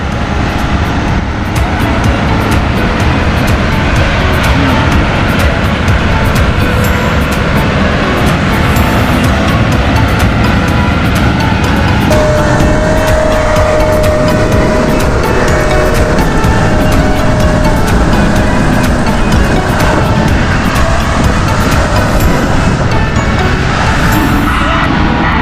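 Concrete trucks unloading into a concrete pump, a loud steady mechanical roar of engines and pumping that runs unbroken throughout, with a brief faint tonal whine partway through.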